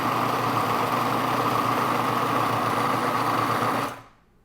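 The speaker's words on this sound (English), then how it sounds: "the food processor will vibrate." Food processor running steadily while blending hummus with olive oil, a loud continuous motor whir with a buzzing, vibrating edge that holds for about four seconds and then cuts off as the machine stops.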